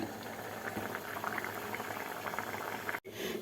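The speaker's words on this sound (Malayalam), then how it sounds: "നന്നായിട്ട് തിളച്ച് ഇങ്ങനെ കയറി വരുന്ന സമയം നോക്കി നമുക്ക് അരപ്പ് അരപ്പല്ല തൈര് ചേർത്ത് കൊടുക്കാം" A tomato and curd curry bubbles vigorously in a pot, a dense steady boil of popping bubbles close by, broken by a brief cutoff near the end, with no talk.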